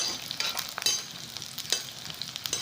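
Garlic frying in a pan gives a soft, steady sizzle with brief stirring scrapes, close and moderately quiet, with no voices.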